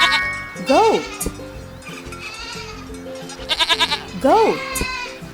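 A goat bleats two short, wavering cries, close by, with a burst of rapid stuttering bleats between them and a voice talking in the background.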